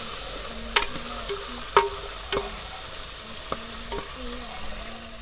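Gunda (gumberries) sauté in a pan with a steady low sizzle, while a spoon scrapes and taps against the pan several times in a slow, irregular rhythm.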